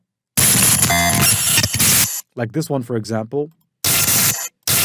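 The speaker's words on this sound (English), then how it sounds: "So if I go and look for glitch SFX, this is a popular one, right?" Digital glitch sound effects from the CapCut video editor's library burst out as harsh, noisy static crackles, with someone briefly speaking between the bursts.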